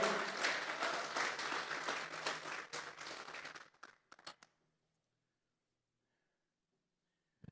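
Church congregation clapping as an offering of praise to God, a full burst of many hands that thins to a few scattered final claps and then silence.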